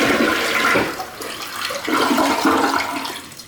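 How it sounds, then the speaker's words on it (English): A newly installed toilet in a remodeled foreclosure flushes up close, with loud rushing and swirling water that surges, dips briefly, then surges again before tapering off over a few seconds. "we're gonna flush it"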